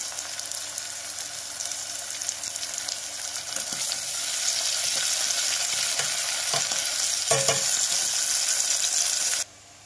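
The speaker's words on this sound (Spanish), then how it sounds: "Después de medio minuto le vamos a poner la cebolla para que vaya también sofritando" Onion sautéing in a pan with garlic for a cauliflower soup, a steady bright sizzle with a few stirring knocks, growing slightly louder midway and cutting off abruptly near the end, with no talking.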